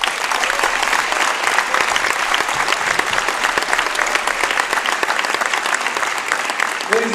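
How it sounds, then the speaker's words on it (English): Sustained applause from a crowd at a high school boys basketball game honoring senior players, dense steady clapping filling the gym at a constant loud level throughout. "let's give one more big round of applause to our seniors"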